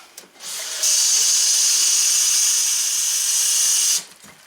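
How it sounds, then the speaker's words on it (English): A steady hiss of tap water pours straight from a sink faucet into a container for about three seconds, then stops abruptly. "first we're going to fill up with tap water. Just right out of the sink"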